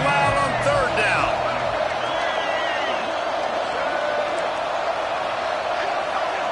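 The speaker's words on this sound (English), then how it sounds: "this crowd bearing down and getting loud on 3rd down" A stadium crowd at a college football game swells and roars on third down, a broad sustained wall of noise with whoops on top, under a commentator's talk.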